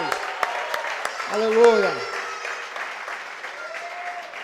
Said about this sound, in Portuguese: Essas palmas aí, aplauda aí, igreja, em nome de Jesus.